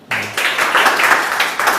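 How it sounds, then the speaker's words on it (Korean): Brief burst of audience applause at a seminar for a professional exam study group, steady and fairly loud from start to finish after a short quiet opening. "박수 부탁드릴게요."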